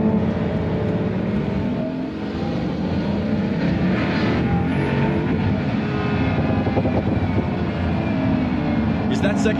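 A Pagani Huayra Codalunga's engine drones steadily from inside the cabin as it pulls toward 6,000 RPM in second gear, a loud, continuous roar with people talking over it.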